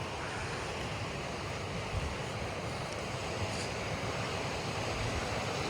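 Water pours down from above on a mountain during a 16 km trek, a steady, loud, continuous rushing roar with no pauses or talk.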